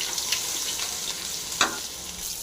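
Crushed garlic and popped mustard seeds frying in hot oil, a steady broadband sizzle with a brief louder crackle near the middle, close and continuous with no talk.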